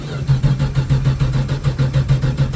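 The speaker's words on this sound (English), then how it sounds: "Now with the race car battery." A Dodge Dart with a dry carburetor cranks on a race car battery during a winter cold start, the starter churning in a steady rapid rhythm, loud and close with no voices.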